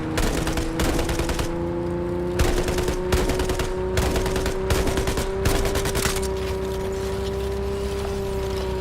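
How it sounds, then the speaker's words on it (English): Loud machine-gun fire in Cyberpunk 2077 Phantom Liberty, sustained rapid bursts in several long volleys close up, broken by short pauses, over a steady droning tone and with no talk. "I've got machine guns in this as well."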